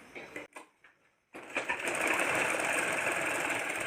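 An electric sewing machine stitches along the edge of a small petticoat. A few short stuttering bursts and a brief pause lead into a steady, continuous mechanical whir with rapid needle clatter.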